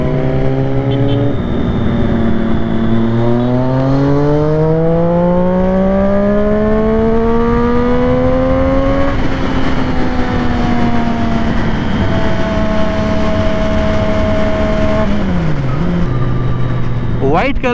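A group of motorcycles, including a white Suzuki Hayabusa, a BMW XR and a Kawasaki, riding off together on a road, with loud engines climbing and falling in pitch as the bikes shift gears and accelerate. The engine noise stays strong throughout.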